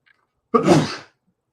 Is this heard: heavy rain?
no